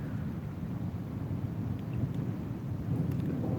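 Distant thunder rolls low and steady during a lightning storm at night over water, a faint rumble with light rain-like patter and no talking.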